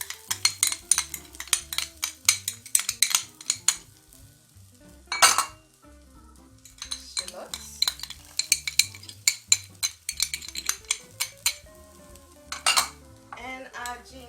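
Garlic and deseeded yellow habanero chili stir-fry in a pan for fried rice, the sizzle mixed with clinks and scrapes of a utensil against the pan in irregular bursts, all over steady background music.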